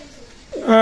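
A short burst of cooing from Pakistani high-flying pigeons rises out of quiet background noise near the end, close and fairly loud, with a soft throaty warble.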